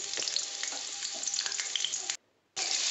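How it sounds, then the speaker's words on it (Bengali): Chopped onion hits hot oil and fries with a loud, steady, dense sizzle close by, briefly cutting out near the end before resuming, with faint stirring and no voices. "তেলটা গরম হয়ে গেছে। এরপরে দিয়ে দিলাম পেঁয়াজ কুচি।"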